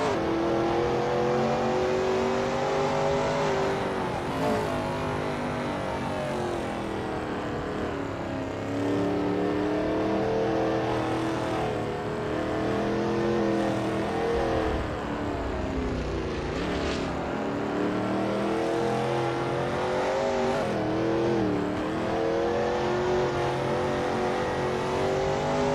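A Veloce GTS-8 race car in a racing video game drones steadily on an outlap at Pascani, its engine pitch rising and dipping through gear changes and corners, with no voices.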